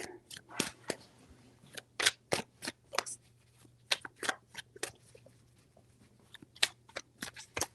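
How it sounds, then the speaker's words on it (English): A tarot deck is shuffled and handled close up, producing a string of crisp, irregular snaps and flicks spaced through the clip, fairly quiet over a low steady hum, no voice. "Four shuffles."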